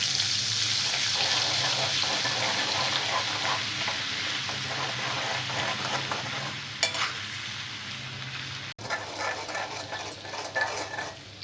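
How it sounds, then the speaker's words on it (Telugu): Ginger garlic paste frying in the same oil that fried chicken pieces for a pickle, a continuous close sizzle with bubbling crackle and occasional stirring scrapes, loud and steady throughout with no talk. "చికెన్ ఫ్రై చేసుకున్న ఇదే ఆయిల్లో అల్లం వెల్లుల్లి పేస్ట్ని కూడా ఫ్రై చేసుకోవాలి"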